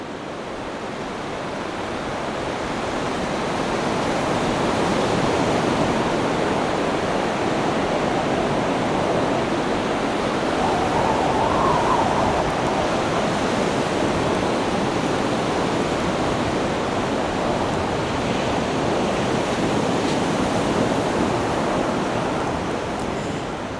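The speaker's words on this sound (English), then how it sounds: "I felt the weight of history as we watched the waves slam against the rocks." Storm surf pounding rocks on the Vancouver Island coast, a loud, sustained roar of crashing waves that swells and holds throughout.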